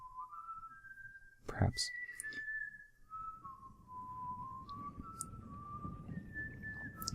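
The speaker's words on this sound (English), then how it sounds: "I mean, whistling." Eerie, wavering whistled tones in the Game of Thrones: Iron from Ice game rise and fall in a slow melody over low ambient rumble, with a brief thud and a single softly spoken word.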